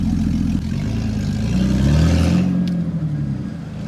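A Jeep's 4.0 inline-six engine with a straight-piped exhaust rumbles loudly and steadily up close, its tone rising briefly as though revved before settling back, with no talk over it.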